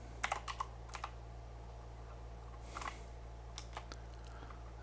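Someone types on a computer keyboard while working in Excel, with light clicking keystrokes in short irregular clusters, soft and close over a steady low hum.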